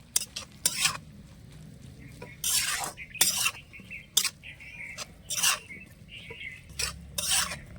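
Cabbage and egg mixture with turmeric, salt and chili powder being stirred in a pan, irregular scraping strokes of a utensil against metal over a faint sizzle, no voices.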